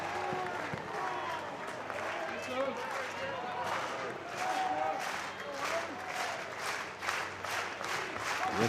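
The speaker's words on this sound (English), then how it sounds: "Rhythmic clap from the fans here at Founders Park." Baseball fans at Founders Park clap in a rhythmic pattern during a college game between Arkansas and South Carolina, with steady repeated claps and crowd noise under continuous commentary.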